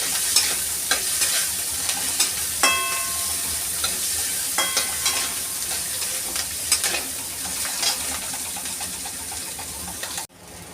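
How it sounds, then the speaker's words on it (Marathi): Chopped onion sizzles in hot oil as it browns toward golden, a continuous close crackle broken by frequent metallic stirring clinks and scrapes, ending suddenly. "तर कांदा आपल्याला छान असा सोनेरी रंगावर भाजून घ्यायचा आहे"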